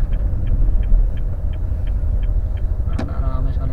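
A Honda Brio pulls away slowly in first gear, its engine a low, steady rumble heard from inside the cabin, with a regular faint ticking like a turn signal and a sharp click near the end.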